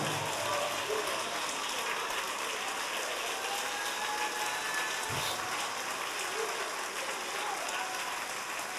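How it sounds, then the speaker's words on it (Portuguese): A standing church congregation applauds, a continuous dense hiss of many clapping hands at a steady level, rain-like and fairly distant, with faint voices mixed underneath. "pode aplaudir de pé"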